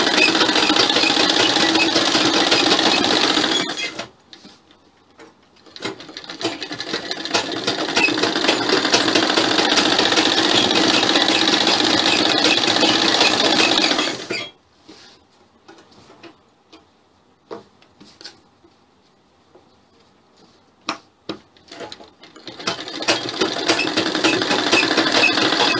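A sewing machine stitches piping along a Chinese-collar sherwani, running in long loud rattling bursts of several seconds each with quiet gaps where it stops and starts again in short spurts.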